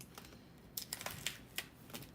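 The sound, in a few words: typing on a computer keyboard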